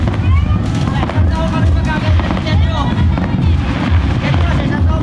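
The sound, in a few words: New Year fireworks exploding in the distance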